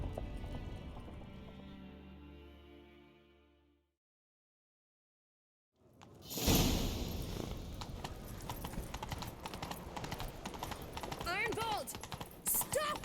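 Horse hooves in The Witcher 3 beat a steady clip-clop at a gallop. Several seconds of musical tones come first, then a silent gap. The hoofbeats then run loud and continuous with whinny-like squeals and voices over them.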